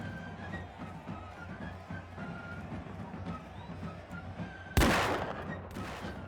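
Musket fire in Mount & Blade II: Bannerlord, set in a 1700s European battle, with a soft crackle of distant shots under battlefield noise and then one sharp, loud report near the end.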